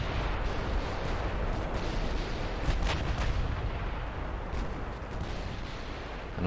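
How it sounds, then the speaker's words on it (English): 16-inch naval guns firing in the naval warfare game Ultimate Admiral Dreadnoughts, heard as deep, heavy booming thuds within a continuous rumbling roar of battle. "I do love the sound of the 16-inch guns."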